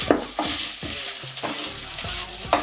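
Mushrooms with curry leaves sizzle in a hot pan, broken up by several sharp stirring scrapes of a utensil, close and clear with no talking.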